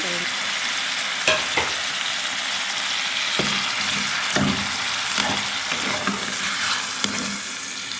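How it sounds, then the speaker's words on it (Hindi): Steady, loud sizzling of tomatoes frying in oil with onion and garlic, with occasional scraping stirs of a spoon through the pan. "लहसुन को प्याज के साथ अच्छा सा मैं इसमें टमाटर ऐड कर रही हूँ।"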